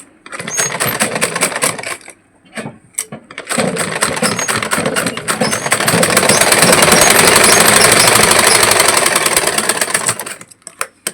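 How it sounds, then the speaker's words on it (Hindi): A sewing machine runs loud and close while tacking the front of a pleated blouse, rattling in short bursts with brief pauses before settling into one long, steady run that stops near the end. "यहाँ से मिलाते हुए आपको लगा लेना है कच्चा सिलाई"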